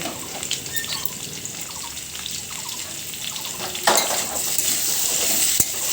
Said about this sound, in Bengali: টমেটো অ্যাড করেও কিছুক্ষণ নাড়তে থাকবো